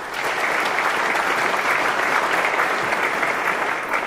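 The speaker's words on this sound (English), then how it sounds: "and I think they deserve a big clap." Residents applauding at a community water meeting in Waikouaiti, a full, even roar of clapping from a roomful of people, loud and sustained for several seconds before tapering at the end.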